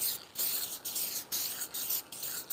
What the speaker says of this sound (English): One really good coat of this archival spray should be good.